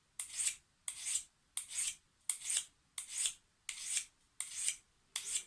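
Kitchen knife sharpened on a 360 grit whetstone: eight even rasping strokes about once every 0.7 seconds, each a bright gritty scrape with short pauses between, close and moderately quiet, no voices.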